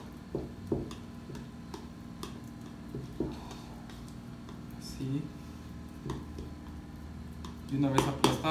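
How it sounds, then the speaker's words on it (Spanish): Spoon pressing and lightly crushing a scallop aguachile mixture in a dish, giving a few soft, scattered taps and scrapes against the dish, close and fairly quiet, with a low steady background hum. "Lo que vamos a hacer es aplastarlo ligeramente con nuestra cuchara de esta manera para que se pueda integrar mejor"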